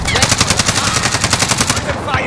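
Rapid automatic gunfire from Call of Duty Warzone rattles in a steady, evenly spaced burst of loud close shots, tapering off near the end with a voice briefly audible beneath.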